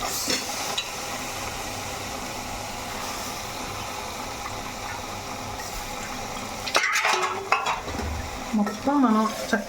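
Goat head curry being stirred in a pan, a steady close sizzle of frying under scraping and clinking of a spoon against metal, with louder stirring knocks near the end.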